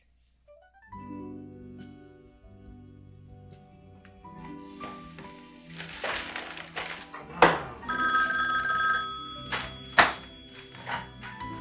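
An old-style telephone bell rings in short bursts in a quiet room, with soft thumps and movement around it, each ring sharp and close.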